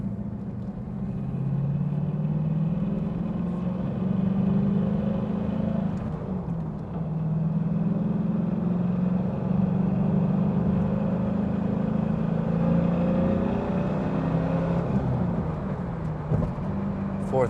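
A 2000 Pontiac Firebird Trans Am WS6 with a manual gearbox pulling through the gears, its engine droning loudly from inside the car with rising and falling pitch at each shift.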